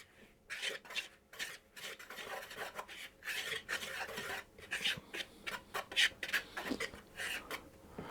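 Dry biscuit ingredients, flour with cardamom, stirred around a bowl, giving close, quiet scraping and rasping strokes in an irregular rhythm with brief pauses between bursts.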